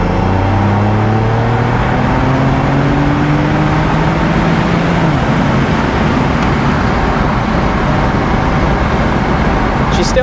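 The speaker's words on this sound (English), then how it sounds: "and wide open throttle." A BMW E92 335i with a swapped-in turbocharged N54 engine accelerating at wide open throttle from inside the car, engine pitch climbing steadily over loud road and cabin noise.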